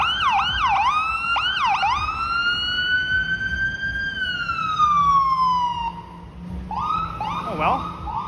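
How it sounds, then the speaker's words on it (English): Ambulance siren on a street near a new Eglinton Crosstown LRT station in Toronto, a clear wailing then yelping wail that rises and falls, moderately near and steady, fading slightly before resuming. "yeah, an ambulance, of course."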